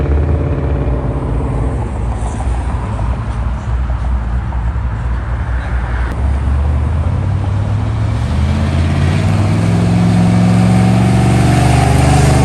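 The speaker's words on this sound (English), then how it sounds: "There goes a Chevy truck." A Chevy truck drives past at a cruise-in car meet outside a pizza house, its engine rumbling steadily and then swelling louder and rising in pitch as it comes close.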